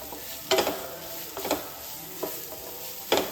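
Chopped green chili sautéing in a pan: a steady soft sizzle, with a few spatula strokes scraping through it at intervals, close and fairly quiet.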